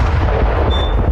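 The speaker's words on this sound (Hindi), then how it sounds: "पहली तस्वीर टेस्ला के साइबर ट्रक में हुए धमाके की है।" A Tesla Cybertruck explodes in Las Vegas, heard as a loud, sustained booming roar with heavy low rumble and a dense broadband wash lasting the whole moment, with no voices.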